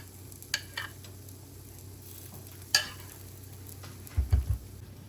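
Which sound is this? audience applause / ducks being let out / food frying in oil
food frying in oil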